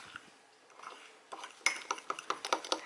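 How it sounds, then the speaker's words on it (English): Spoon stirring chocolate quinoa mug cake batter in a mug, a run of quick clinks and scrapes growing louder in the second half, close and clear with no talking. "Mix it all through."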